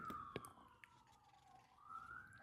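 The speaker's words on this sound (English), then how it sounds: "There's an ambulance outside." Ambulance siren passing outside a city apartment, a wavering wail heard faintly through the room, sweeping down and then rising again over about two seconds, with a few sharp clicks of LEGO pieces close by.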